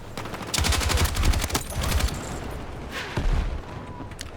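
Rapid automatic gunfire from a weapon in the video game Battlefield 6, several loud close bursts of shots with short gaps between them.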